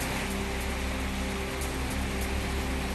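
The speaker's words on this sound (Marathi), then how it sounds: "गोंदियात 4 दिवसांच्या विश्रांतीनंतर दुपारपासून जोरदार पाऊस।" Heavy rain falls in Gondia, Maharashtra, making a constant dense hiss and patter with a faint low hum underneath, steady throughout.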